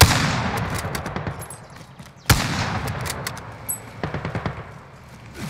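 Call of Duty Warzone gunfire: a loud, close burst of rapid automatic shots, then a sharp single crack, with more bursts of fire after it.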